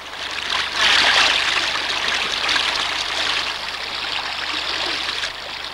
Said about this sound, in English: Suddenly, the tired river starts to dance and sparkle with a new flush of oxygen.